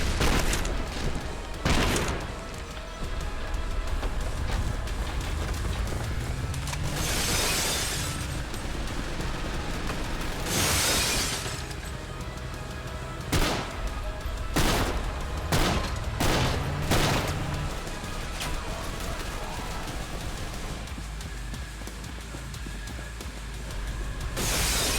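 An Apache helicopter's 30mm gun pod fires in the game Trepang2, loud booming bursts and rapid fusillades of heavy cannon fire with sharp impacts, repeating across the scene over dense battle noise.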